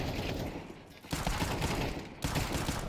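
Five-seveN pistol fire from a Counter-Strike match comes as sharp, loud bursts of shots, close and rapid, with two distinct clusters separated by brief pauses and no speech over it.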